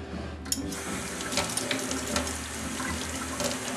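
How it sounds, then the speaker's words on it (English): A kitchen tap runs steadily while a spoon is rinsed under it: a continuous close splashing hiss of water with small clinks and shifts, and no talking. "Rinse off my spoon"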